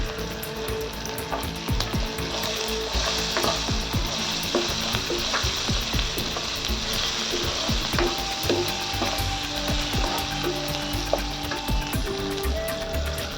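Close, continuous sizzle of onion and peas frying in oil, with scattered clicks and taps of a utensil stirring the pan over the hiss; steady level, no talking.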